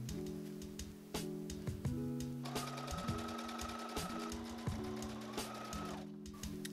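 A sewing machine basting around ruffled fabric for a corset bodice prom dress: a steady, close motor hum with rapid needle clatter, briefly pausing and restarting several times, with no talk.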